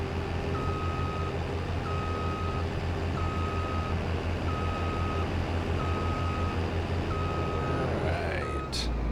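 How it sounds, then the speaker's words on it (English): Combine harvester reversing on a farm field, its backup alarm beeping steadily in evenly spaced tones over a constant low engine drone, with a brief hiss near the end. "And here's our combine."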